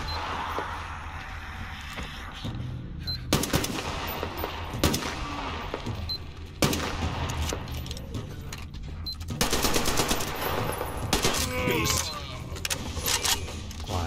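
Bursts of rapid gunfire in Metro Exodus crackle repeatedly amid game sound effects, with a voice talking intermittently in Thai over the shooting.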